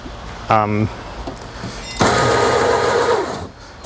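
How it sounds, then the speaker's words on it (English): A Snowie 2015 block ice shaver's motor grinds through ice in a loud, rough burst lasting about a second and a half, then cuts off abruptly. A voice speaks briefly just before it. "when you shave and you stop shaving, this motor down here stops real abruptly"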